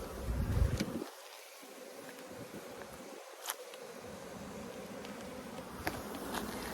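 Honeybees drone and buzz around open hive frames and a queen cage, a soft continuous hum with individual bees whizzing past the microphone now and then, outdoors in breezy weather.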